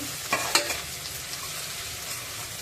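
Onions frying golden in tempering oil for a stingray curry, a steady close sizzle with a couple of sharp stirring scrapes near the start.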